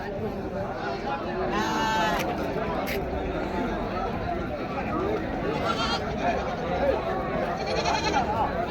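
Goats bleating at a busy livestock market in Kambainallur, several wavering calls near and far over constant crowd chatter and people talking.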